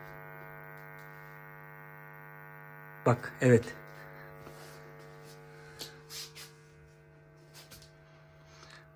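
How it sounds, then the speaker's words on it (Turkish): A newly bought gramophone plugged into the mains gives off a steady electrical hum and buzz, with a few clicks and handling knocks partway through while someone speaks briefly. "Cızır, cızırtı sesini duyuyor musunuz?"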